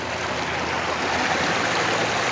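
Steady rushing water while wild termite mushrooms are washed, a continuous broad wash of running flow, close and fairly loud with no voices.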